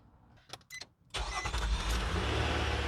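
A car engine cranks after a portable 4000A jump starter is connected, with a few short clicks and bursts before it catches and settles into a loud, steady idle.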